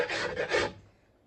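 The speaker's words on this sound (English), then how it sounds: "I make my way all the way around the piece with the rasp and the files" A wood rasp scrapes around the rim of a turned wooden bowl in one coarse, steady rasping stroke, close and fairly loud, then fades out.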